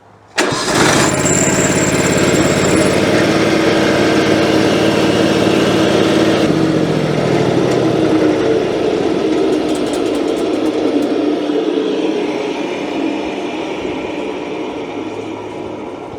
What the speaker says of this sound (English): we'll just pivot around that wheel, and that will slowly grind the stump away